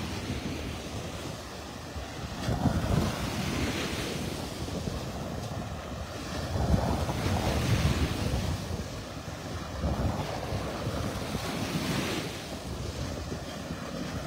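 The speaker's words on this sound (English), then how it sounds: "These waves are definitely getting bigger." Ocean waves breaking on a beach in North Naples, Florida, rolling in as repeated surges every few seconds under steady wind rumble against the microphone, with no voices.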